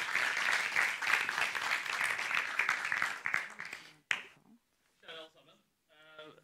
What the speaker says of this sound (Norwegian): så gi ham en god applaus.